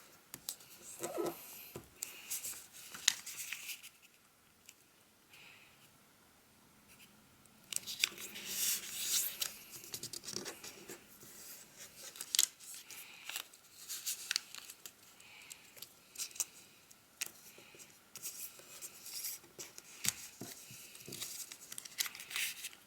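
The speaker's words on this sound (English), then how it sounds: "we are going to fold to all the corners actually towards the center." Paper being folded for an origami sit-up pup, corners creased toward the centre, with soft close crinkles, rustles and sharp creasing bursts scattered across a quiet stretch and no talking.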